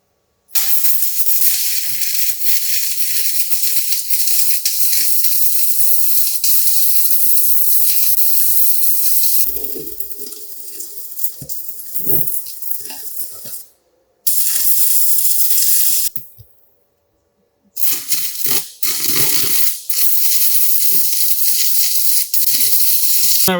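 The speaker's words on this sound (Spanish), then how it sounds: "procedemos a soldar." Arc welding on steel plates for a welding certification test, a steady loud crackling hiss running almost throughout with a few abrupt pauses where the arc stops and restarts.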